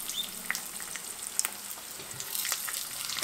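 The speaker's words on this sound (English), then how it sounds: "Nice, perfectly made fried eggs." Eggs fry in a pan with a close, continuous sizzle broken by small sharp crackles and pops, with no talking.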